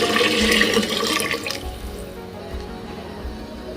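Water splashes and pours steadily into a pot of rice for vegetable pulao for a moment, then quiets to a soft trickle and light dripping, close by.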